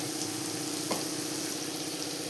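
Lentils fry in oil in a pan until brown for a South Indian meal, giving a steady, close, continuous sizzle with a faint tap from a stirring utensil partway through.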